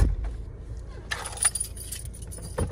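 A small key jangles in quick metallic bursts, close and brief, after a low thump, with faint background hum and no talking.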